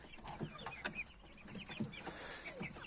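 Young Amrock and Bielefelder chickens clucking and chirping in a farm pen, a busy overlapping flock of short calls, some near and some further off, with no talk.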